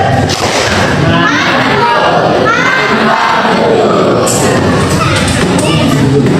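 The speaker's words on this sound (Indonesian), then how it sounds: "Kita beri tepuk mantul" A school class performs the 'tepuk mantul' clap chant during a physics lesson, with loud children's voices shouting together over rhythmic clapping and thumps in a steady, crowded burst.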